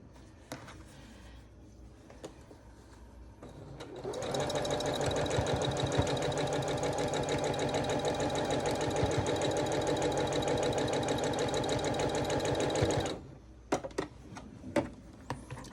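Sewing machine runs a steady, rapid stitching burst of about nine seconds while its bobbin thread runs low, close and loud, framed by softer handling clicks and quilting fabric rustle.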